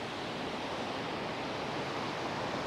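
Loud, constant roar of a swollen, rushing river mixed with wind, a dense unbroken wash of noise with no voices.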